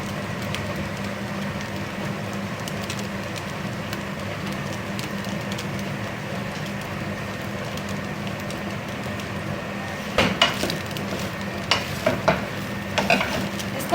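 Carrots fry in a pan for a chicken spring roll filling, with a soft steady sizzle and a low hum and a cluster of sharper stirring clatters near the end.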